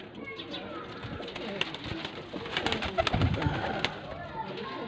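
Baby pigeons, golden and Sialkoti birds kept for sale in Faisalabad, coo softly in low throaty bursts close by, with someone talking over them.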